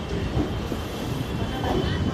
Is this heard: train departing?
yes